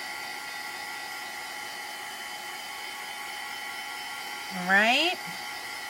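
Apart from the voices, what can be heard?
heat tool blowing hot air to dry chalk paste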